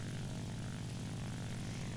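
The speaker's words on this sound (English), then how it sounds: "So there's a Focke-Wulf 190 coming in" A Focke-Wulf 190 propeller fighter in War Thunder drones with a steady, dense engine roar, continuous and moderately loud without pause; no voices.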